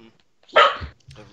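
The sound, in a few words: dog barking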